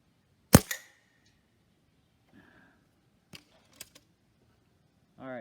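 Stoeger A30 air rifle firing Gamo Match pellets, with one sharp, loud crack near the start followed by a few fainter clicks and snaps from handling the rifle in a quiet setting.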